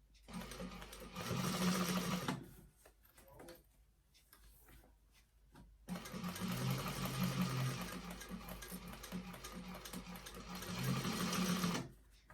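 Sewing machine stitching through a tote bag pocket with the lining pulled clear, running in two steady close bursts split by a quiet pause, with faint handling noise in between.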